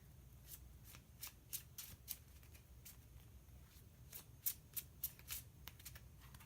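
Tarot cards are shuffled quietly, giving soft riffling flicks and taps in uneven bursts, close up and without speech.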